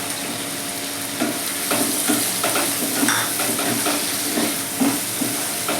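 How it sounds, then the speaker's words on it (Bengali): Green chillies and fried prawns hit hot onion and spice paste in a pan, giving a continuous loud sizzle with scraping stirs and bursts of steam, no talking. "কাঁচা লঙ্কা দুটো দিয়ে দিলাম এবার আমি ভাজা চিংড়ি মাছগুলোকে দিয়ে দেবো"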